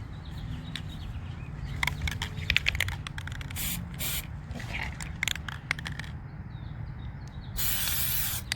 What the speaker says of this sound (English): And you just coat it like you would with your clear spray paint.